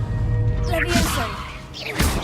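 A Levioso levitation spell from a Hogwarts wizarding video game, heard as a swishing magical whoosh with rising shimmering tones over a low steady hum, followed by a second sharp burst near the end.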